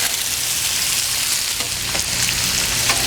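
Marinated steak fajitas sizzle and fry on a hot Blackstone flat-top griddle, giving off a loud, steady hiss and crackle with a few faint scraping stirs.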